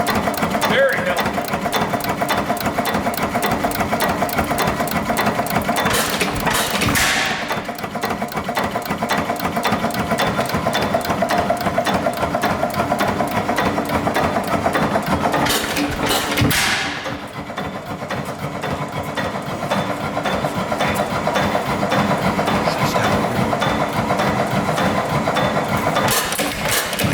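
Antique Dempster 8HP Grain Dealer's Special stationary engine running at its first start-up, giving a loud, close, fast and steady mechanical clatter of tightly spaced beats that carries on with only brief dips.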